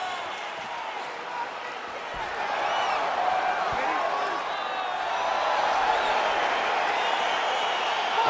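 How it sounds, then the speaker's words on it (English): Arena crowd in the fighting video game EA Sports UFC 4 at the start of a cage fight, a continuous dense roar of cheering and chatter that swells slightly louder partway through. "crowd getting excited as this fight gets underway"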